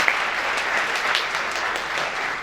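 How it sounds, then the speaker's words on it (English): Steady applause from a crowd fills the whole stretch, dense and even, with no voices over it. "Let's give her a round of applause."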